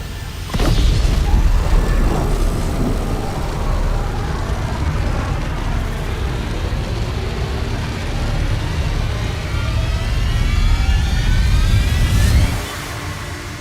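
Ion boosters firing at a rocket launch in the video game Subnautica: a sudden loud roaring blast that holds as a sustained rumbling rush for about twelve seconds, then cuts down abruptly.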